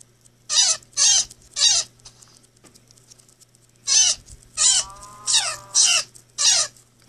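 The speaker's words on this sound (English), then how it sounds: "Maybe you can't tame a cat that size." A Minecraft PE cat meows repeatedly in short, bright bursts, three quick meows, a pause, then six more in an uneven rhythm, close and clear over a faint steady hum.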